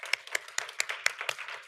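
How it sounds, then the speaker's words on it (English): A few people at a school board meeting clap for a teacher honored with a grant, a sparse, slightly uneven run of about eight distinct claps close by. "We can applaud her for receiving that honor."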